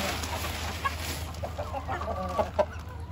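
Chickens and roosters, including a white Indian rooster, cluck and call close by in short bursts, with a couple of louder squawks near the end.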